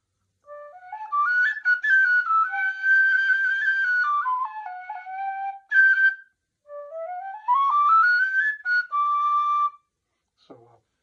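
A bright tin whistle plays a lilting Irish melody in several flowing phrases, clear and close, with brief pauses between them.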